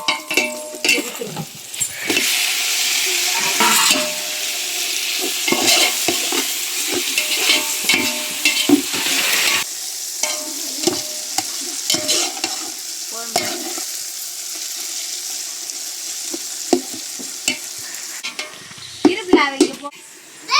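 Onions and tomatoes fry and get stirred in a pan, a steady loud sizzle broken by scraping spoon strokes and light clinks of utensil on metal, dropping briefly near the end before resuming.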